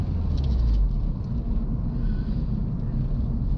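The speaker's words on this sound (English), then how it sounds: "go for a drive in the Civic" A Mugen-built Honda Civic Si with a newly fitted turbo is driven, heard from inside as a steady, heavy low rumble with wind buffeting the microphone and no talking.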